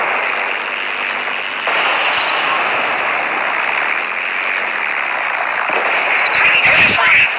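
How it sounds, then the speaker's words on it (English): Explosions in the War Wings aircraft combat game as a battleship is destroyed, a loud continuous rumbling blast wash with crackling bursts throughout, growing sharper toward the end. "Battleship is destroyed."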